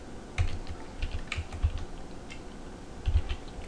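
Light, irregular clicking of keys on a computer keyboard, a few short bursts of taps close to the mic over a faint steady hum.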